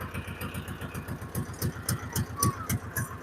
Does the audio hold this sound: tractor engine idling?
yes